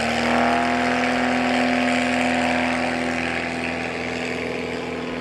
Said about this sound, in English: Nice clean takeoff for Brian Steck